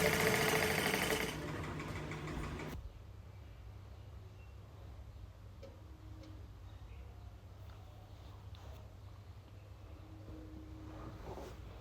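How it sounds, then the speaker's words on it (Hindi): Sewing machine stitching a collar blouse: a brief loud burst of noise, then a faint, steady low whirring hum that carries on evenly. "तो जिस तरीके से मैं इसके अंदर सिलाई लगा रही हूँ उसी तरीके से लगानी है आपको भी।"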